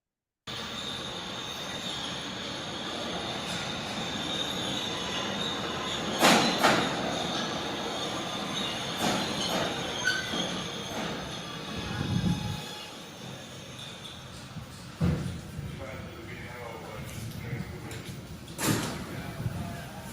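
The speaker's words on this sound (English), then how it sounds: "This is a 168th Street bound C local train." A New York subway C local train of R211T cars rolls along, its wheels squealing loudly in repeated shrill bursts over steady rumbling and clattering, with faint mechanical clunks between.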